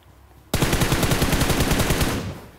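P90 submachine gun firing in the Free Fire video game, a single loud rapid burst of shots lasting under two seconds, close and dry with no voices.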